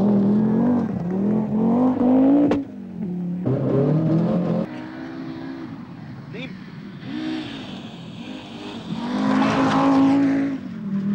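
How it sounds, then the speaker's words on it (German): An Audi Quattro five-cylinder rally car engine revs loudly in bursts, climbing through gears with brief pauses and shift breaks, while someone talks over part of it. "Aber auf der anderen Seite, der Fünfzylindermotor da drin. Holy, wie gut klingt der."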